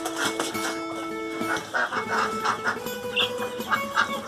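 White quails in a breeding aviary give repeated short chirps and clucks in an irregular string of sharp calls, fairly close and clear, with no talking over them.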